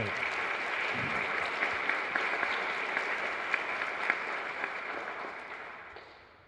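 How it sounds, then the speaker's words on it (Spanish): Strong, sustained applause from a church congregation at Mass in the María Auxiliadora chapel, Lambaré, honoring the Virgin of Peace; dense, steady clapping fills the space throughout, then fades out at the end. "pido un fuerte aplauso para la Virgen de la Paz"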